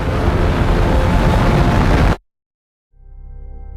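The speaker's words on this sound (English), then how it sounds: "cut to the rocket launch, and it's meant to be like a new chapter, and it needed to be huge" A huge rocket launch roar made for the film Interstellar, a dense, loud, continuous low rumble that cuts off abruptly into silence before a quieter rumbling swell returns.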